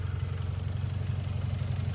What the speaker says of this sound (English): So here's the engine, 2-liter 4-cylinder paired with a 5-speed manual, all-wheel drive.